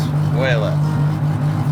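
A turbocharged 2JZ-swapped Dodge Charger with racing cams idles with a steady, rumbling drone close by while a person speaks briefly over it.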